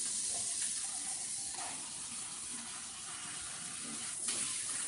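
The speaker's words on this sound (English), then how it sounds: "I'm going to rinse this out so we can use it again" Water running from a kitchen tap as a container is rinsed and soaped in the sink, a steady close hiss of flowing water with faint clinks and shifts, no talking.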